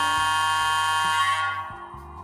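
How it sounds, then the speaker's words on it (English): A Rapido Alco PA-1 model train locomotive sounds its horn, a sustained multi-tone blast held steady for about a second and a half before fading, with low mechanical thumps underneath. "And the horn"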